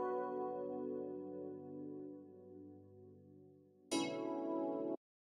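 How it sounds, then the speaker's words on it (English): Piano one-shot sample in a hip-hop type beat, a sustained tonal chord that fades gently, then a brighter, louder struck chord that cuts off abruptly. "So I replaced the XV with the piano from here."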